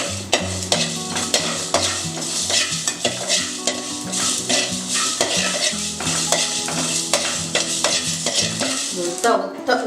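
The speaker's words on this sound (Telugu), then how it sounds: "ఈ మెంతులు, జీలకర్ర, ధనియాలు వేస్తున్నాను. ఇది దోరగా వేగాలండి." Fenugreek, cumin and coriander seeds dry roasting in a pot with no oil, stirred steadily for about ten seconds with a continuous scraping, rattling sizzle and repeated utensil scrapes against the metal, close and fairly loud.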